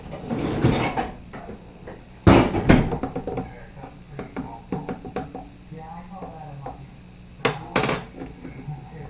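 Close clatter and knocks of a lid and container being handled to shake up homemade hemp milk, with a few loud bumps and scattered smaller taps, and some talking mixed in.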